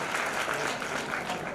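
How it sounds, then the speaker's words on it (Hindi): Steady, dense applause from an audience at a community talent award ceremony, continuous clapping with no gaps, fairly close and full throughout. "तालियां अखिलेश के लिए।"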